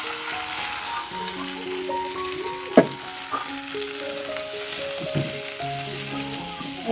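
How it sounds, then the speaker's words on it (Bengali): Potatoes fry in hot oil in a home kitchen, giving a steady sizzle throughout alongside background tones and a single sharp utensil clack. "এখন আলুটা ছেড়ে দিব।"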